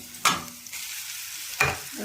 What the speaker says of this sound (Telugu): తాలింపు వేగిపోయింది తీసుకెళ్ళి వేసేది తాలింపులోనే పచ్చడి వేసేస్తున్నాను